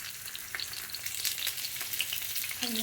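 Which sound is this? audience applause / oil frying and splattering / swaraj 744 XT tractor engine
oil frying and splattering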